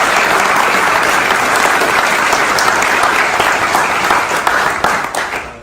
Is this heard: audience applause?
yes